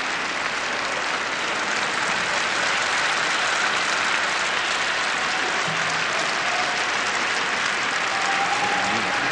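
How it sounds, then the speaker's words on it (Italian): Sustained applause from a crowd of thousands at a funeral in Rome, a dense, steady roar of clapping that stays loud throughout with no pauses. "L'applauso di migliaia di persone."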